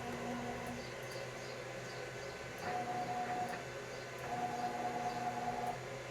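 Stepper motors drive the axes of a homemade fixed-gantry CNC machine built from kitchen worktops, a faint steady whine with tonal buzzing bursts that rise twice as the axes move, quiet and alone.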